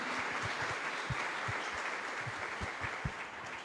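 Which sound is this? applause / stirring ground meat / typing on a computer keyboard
applause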